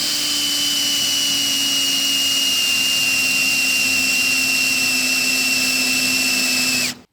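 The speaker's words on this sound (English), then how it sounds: "I will now test this fucked up drill." A power drill spins a dull drill bit clogged with glue in a continuous loud, high whine that holds steady for about seven seconds and then cuts off abruptly.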